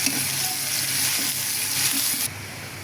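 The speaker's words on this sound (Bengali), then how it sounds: "তেলের মধ্যে রসুন আর পেঁয়াজ দিয়ে দিলাম। এখন এগুলোকে বাদামি করে ভেজে নিব।" Chopped garlic and onion frying in hot oil until brown give a close, continuous loud sizzle that drops slightly in level near the end, with no voices.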